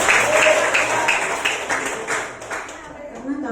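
Audience applause at a village competition presentation in Gresik Regency, a steady wash of clapping through the whole stretch that thins slightly toward the end, with voices mixed in underneath.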